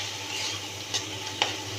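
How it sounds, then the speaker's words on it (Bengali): Prawns sautéed and stirred in a thick spice masala for coconut prawn malai curry, a steady sizzle with two distinct scraping stirs of the spoon against the pan, close and without talk. "এই চিংড়ি মাছগুলো ভালোভাবে মশলার সাথে কষিয়ে নেব।"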